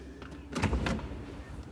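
An automatic power door on a Mercedes EQS electric sedan moves and then halts. A soft motor whir rises briefly and ends with a muffled stop, fairly quiet and close by.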